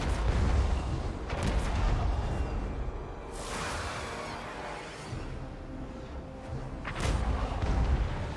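Hell Cannon artillery in a Warhammer video game, firing with repeated heavy booms and whooshes over a dense, rumbling battle din, with sharper blasts near the start and end.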